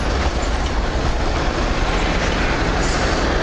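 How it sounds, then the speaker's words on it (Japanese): A train arriving at Yokkaichi Station, Japan, rumbles loudly and continuously close by, a dense roar of wheels on rails with no pauses. "あ、電車来てる。"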